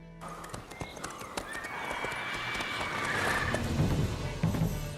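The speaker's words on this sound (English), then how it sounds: "Whoa there, Roach." Hooves of the horse Roach in The Witcher 3 video game clip-clop steadily and close, slowing to a halt as the horse gives a whinny near the end, with no talk over it.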